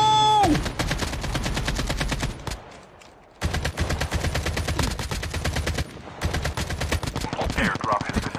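An AK-47 in the mobile shooter Call of Duty Mobile fires in long, rapid automatic bursts, loud and close, with a brief pause between volleys.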